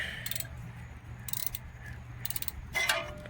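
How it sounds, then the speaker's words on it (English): A 15 mm ratchet wrench tightening a sway bar nut on a Ford Explorer, giving quiet, quick clicking bursts in a few short runs over a low background hum. "Now I can take my wrench which I'm using this ratchet wrench right here, 15 millimeter."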